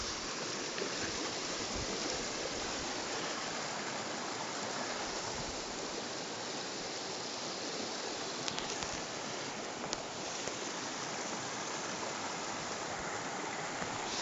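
A river on the Tongariro Northern Circuit rushes steadily and close by, a dense, unbroken wash of flowing water with no pauses or voices throughout.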